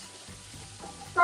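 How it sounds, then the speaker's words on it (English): Onions and chilies frying in a pan, a soft low sizzle with faint stirring scrapes, growing into a louder, brighter hiss near the end. "Fry off the onions and the chilies"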